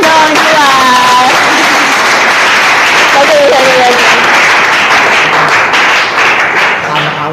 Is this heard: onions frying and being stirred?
no